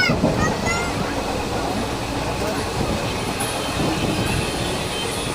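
A crowded East Coast Express passenger train rolls along with a steady, loud rumble and rattle of carriages, constant throughout with faint squeals and clatter on top.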